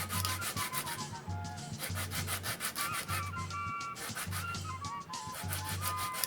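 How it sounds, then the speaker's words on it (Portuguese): Sandpaper rubbing back and forth over a wooden cylinder as it is turned while shaping a fife, a close, loud, rhythmic rasping in steady strokes with short pauses between passes. "eu vou acertando as faces desse meu cilindro"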